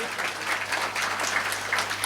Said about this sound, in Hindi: एक बार पुरजोर तालियों से इस्तकबाल कीजिए